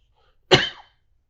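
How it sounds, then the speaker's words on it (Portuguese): A single sharp cough from someone with acid reflux, a short burst of about a third of a second that is close and fairly loud, with quiet before and after. "eu tenho um pouquinho de tosse de refluxo"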